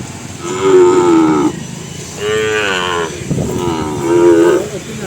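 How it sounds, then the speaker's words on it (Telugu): A five-month-old cow calf moos three times, each long and loud, with short pauses between them and no talking. "మీరు చూస్తున్నది ఆవుదూడేనండి ఇది"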